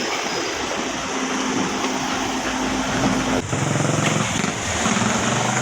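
A truck pushes through deep flood water on a rain-soaked road, a steady rushing, churning wash of water mixed with a low engine drone, loud and close and continuous, with a brief break partway through.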